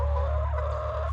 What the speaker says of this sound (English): Brucester the rooster